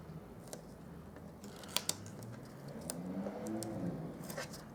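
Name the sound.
scissors cutting paper craft adhesive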